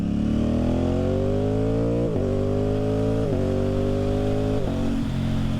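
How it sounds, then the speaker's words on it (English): Aprilia Tuono 660 with an aftermarket exhaust accelerating smoothly at half throttle, engine pitch climbing through three quick gear changes, close and loud with no speech. "let's just kind of just roll it on smooth as if you're accelerating from a stoplight"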